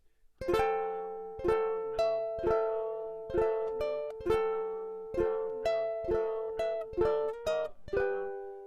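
Rhythmic strummed guitar chords with a steady repeating pattern of strokes, each ringing briefly, with a slight stumble near the end.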